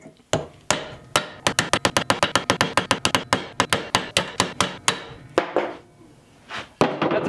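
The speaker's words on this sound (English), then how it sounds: "let's pound away at these with the ball peen on the anvil" Ball peen hammer pounding a slingshot against an anvil, a rapid series of sharp metallic strikes, about two dozen close blows in a steady rhythm, then a brief pause and a few final hits.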